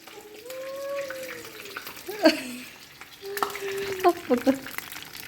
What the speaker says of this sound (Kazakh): Май шашырайды.